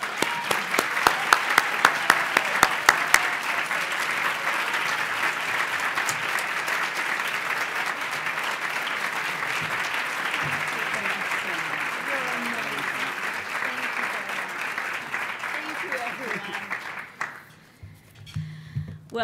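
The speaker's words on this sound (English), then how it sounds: "I hope that you will give Naida a big round of applause" Sustained applause from an audience honoring a sex education award recipient, strong and even for most of its length, with some voices mixed in before it tapers off and a brief spoken voice at the end.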